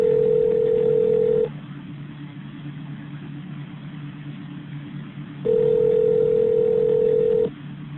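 Steady telephone line tones from a call being transferred to a shift commander, two long flat beeps a few seconds apart over a low hum and faint background noise, with no talking.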